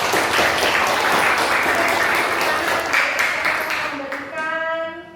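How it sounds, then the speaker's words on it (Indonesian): Classmates applaud a student named Winda during a midwifery lecture. A dense burst of clapping fills the room, then thins out toward the end as a voice starts up. "Tepuk tangan dulu buat Winda."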